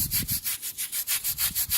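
A brush scrubs an oil stain on a concrete driveway in quick, even back-and-forth strokes, about six regular rasping passes per second, loud and close with no talk.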